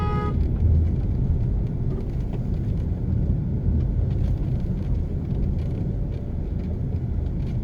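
A car rolls slowly over a bumpy road in Kingston, Jamaica, its interior filled with a steady low rumble and road noise, broken by faint knocks and jolts from the rough surface.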